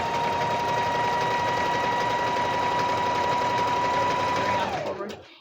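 A sewing machine hums close and continuously while running a back stitch, then winds down and stops near the end.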